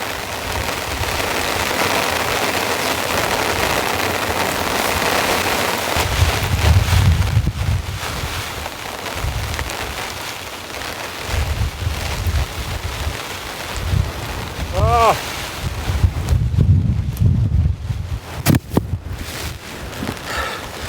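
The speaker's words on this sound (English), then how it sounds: "It's too windy and too wet out here." Strong wind buffets and roars through a storm while camping, mixed with heavy rain and rustling gusts that rise and fall close by.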